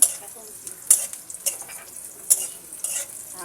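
Onion and green chili fry in oil in a wok with a thin, light sizzle, punctuated by several sharp clinks and scrapes of a spoon against the metal.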